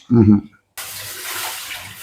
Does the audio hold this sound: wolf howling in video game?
no